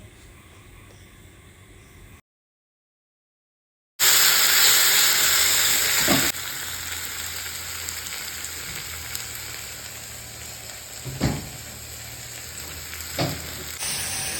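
Mixed vegetables fry loudly in a pan with a ginger, green chilli and mustard paste, a strong steady sizzle and hiss broken by a few stirring knocks, after a short silent gap.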